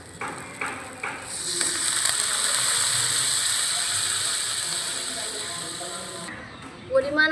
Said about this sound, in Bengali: তো এবার দিয়ে দেব পরিমাণ মতো জল।